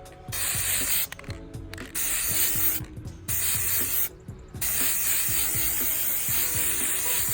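Aerosol spray paint hissing onto a Nintendo 64 controller in bursts, with long steady sprays broken by a few short pauses, close and loud, no talking.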